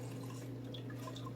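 Melted butter poured from a pan into a mixing bowl for a giant cast iron chocolate chip cookie, a short run of soft liquid trickles and drips over a low steady hum.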